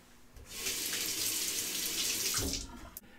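A REX Sentry slant bar safety razor is rinsed under a running bathroom tap, a close, loud rush of water lasting about two seconds before it cuts off.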